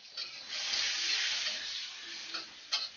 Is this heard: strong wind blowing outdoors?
no